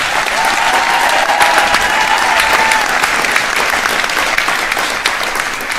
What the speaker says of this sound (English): Let's just give these 2 guys another round of applause.